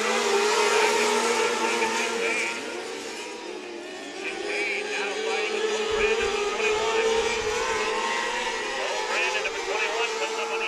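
Micro sprint race cars from the PureMax HART NW Micros series run side by side down the front straightaway at US 24 Speedway, their engines droning loud and steady without a break, with race commentary running over the top.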